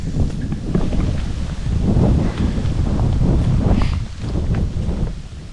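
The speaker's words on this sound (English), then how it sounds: "it's a little windy today, so sorry for that" Loud, rumbling wind buffets the microphone continuously, with gusts swelling and easing throughout.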